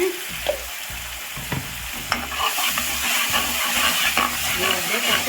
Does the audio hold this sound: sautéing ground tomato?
yes